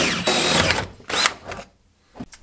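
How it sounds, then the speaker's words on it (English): A power drill whirs in several short bursts, loud and close, with brief pauses between them, drilling bolt holes while fabricating an H22 shifter box. "After drilling all the four holes"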